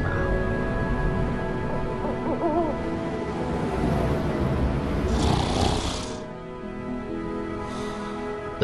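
A bear's snoring sound effect in a read-aloud storybook, a long, steady, rumbling snore that fades into quiet near the end, with no voice over it.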